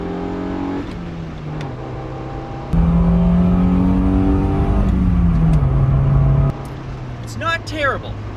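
A 1993 Honda Civic DX with a 102-horsepower engine pulls away, its engine note rising and stepping through gears at a steady, fairly loud level, with a few faint squeaks near the end.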